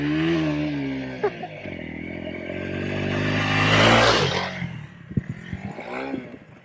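Honda CRF300L dual-sport motorcycle ridden on a trail in Wyoming, its engine revving up and down close by with rising and falling pitch, a louder rush of throttle midway and some clattering over rough ground.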